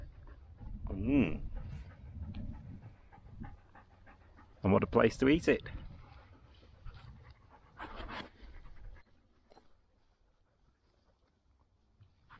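Dogs panting and softly whimpering on Beeley Moor, close breathy panting bursts between stretches of people talking outdoors, fading quieter toward the end.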